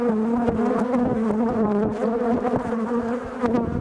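Honeybees swarm densely over a hive frame during an inspection, a loud, close, continuous buzzing drone with a steady pitch and occasional individual bees flicking past.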